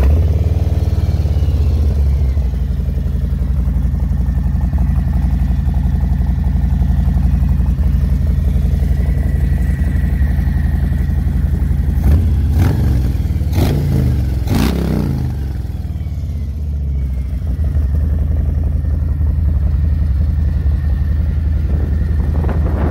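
A Harley-Davidson Softail Slim with a Screamin Eagle Pro Street tuner fires up and idles loud and close, then gets a few sharp throttle blips in the middle before settling back to a steady rumble.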